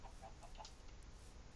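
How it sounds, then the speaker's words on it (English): Chickens in Minecraft give a few quick, faint clucks over a steady low game background, no talking. "there are so many chickens over here"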